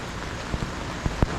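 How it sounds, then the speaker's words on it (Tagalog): Steady rain falls in Alaminos City, a soft continuous hiss with a few louder drops tapping close by, and no voices are heard. "Umulan na naman oh."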